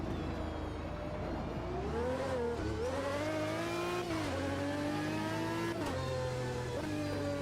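A V12 race car engine in Automobilista 2 roars loud and close, its pitch climbing and dropping repeatedly through gear changes as it revs hard.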